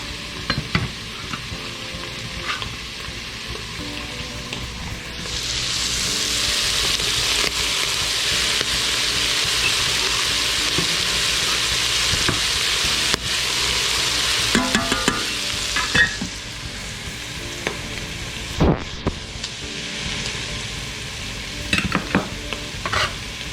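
Onions sizzle and fry in a hot Instant Pot after browning, with steady stirring scrapes over a loud, continuous hiss that swells partway through.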